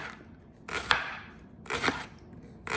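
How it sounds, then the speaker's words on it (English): A knife chops leek thinly on a cutting board, three crisp, close knocks spaced about a second apart. "I'm going to chop my leek"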